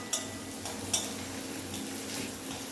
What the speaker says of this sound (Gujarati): આવું એક નાનું સમારેલું ટામેટું એડ કરીશું અને એને પણ 1 કે 2 મિનિટ માટે સાંતળીશું